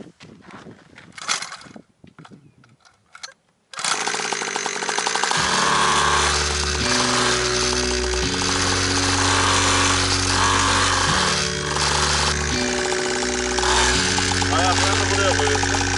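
A 50cc Kasırga mini cross bike engine fires up after a few seconds of talk and a voice, then buzzes loudly and steadily up close, its pitch stepping up and down with the throttle.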